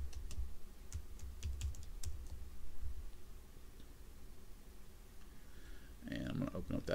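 Keys clatter on a computer keyboard while a car tuning file is entered in HP Tuners software for a Gen 3 LS swap, quick uneven taps close by with a soft background hum and a brief burst near the end.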